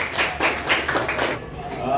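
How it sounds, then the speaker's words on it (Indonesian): Grade 5 students in a classroom clap for group 4, a quick run of evenly spaced, moderately close claps that stops after about a second. "tepuk tangan untuk kelompok 4"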